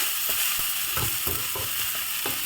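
A ragi vegetable uthappam sizzles and crackles steadily in an oiled pan, with oil drizzled around its edges, a close, continuous frying hiss broken by a few short clicks and scrapes, with no talking.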